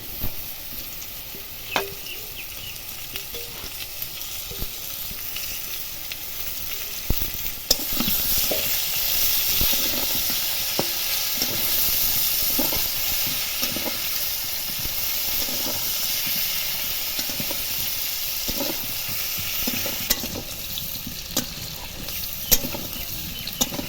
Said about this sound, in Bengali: এবার দেব কেটে রাখা পেঁয়াজ পেঁয়াজটা আমি আলাদা করে ভাজবো না একসাথেই ভাজা হয়ে যাবে